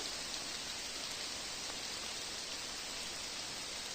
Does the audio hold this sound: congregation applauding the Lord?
no